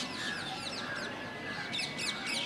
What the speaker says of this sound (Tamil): பேக்ரவுண்டில் எக்கச்சக்க குருவி சத்தம்